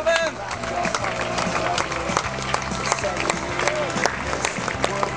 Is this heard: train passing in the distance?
no